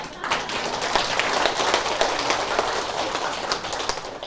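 Steady applause from a seated audience at a spring retreat for elderly parents, a dense, even roar of many hands clapping close by that holds at one loudness for the whole stretch, with no voices over it.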